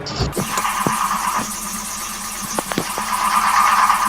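Inside the game My Summer Car, a car engine is cranked, with a short sharp squeal at the start followed by a steady mechanical drone and several brief clicks or knocks, no one speaking.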